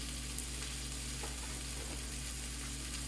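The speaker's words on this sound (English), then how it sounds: "Saute a little bit." White mushrooms sauté in a pan with a continuous soft sizzle and faint crackle, a quiet steady frying hiss with an occasional light stir.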